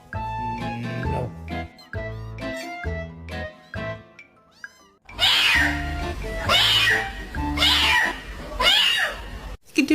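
A pet cat meows repeatedly in short, loud, close calls with gaps between them, followed by a denser stretch of strained, whining meows mixed with broadband noise.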